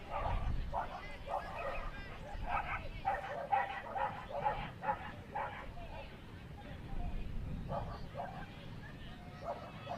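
A four-year-old working Cocker Spaniel barks and yips repeatedly in the main ring of an agility event, with a commentator talking and crowd murmur running throughout.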